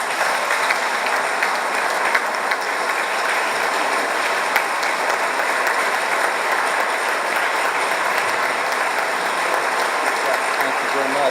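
Sustained, dense applause from an audience at a Leadership Jacksonville award celebration, steady and full throughout with no pauses, close and loud.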